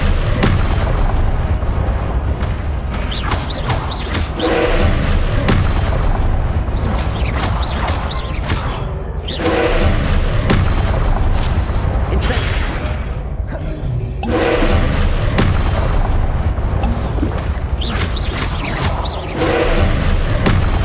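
Confringo spell blasts in Hogwarts Legacy boom over and over, heavy thuds and explosions piling into a loud, dense roar with short dips between bursts, no voices over them.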